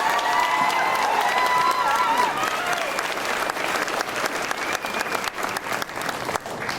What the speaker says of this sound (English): can I have another round of applause for Wendy and Joe?